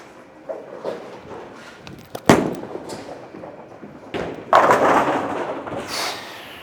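A Hammer Arctic Vibe bowling ball thrown down a lane: a sharp thump at release, then a loud rolling rumble that builds into a crash of pins, set against the ambient noise of a bowling alley.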